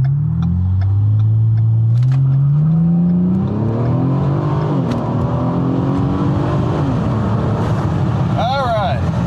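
A turbocharged car running on VP Racing Octanium fuel launches from about 2,500 RPM and accelerates hard, the engine note climbing steadily through the gears, loud and close with heavy wind buffeting.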